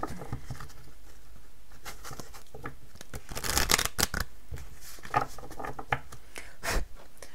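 Tarot cards are shuffled and handled close up, giving a dense run of papery riffles, slaps and brushing flicks, with a louder burst of shuffling in the middle and no talk.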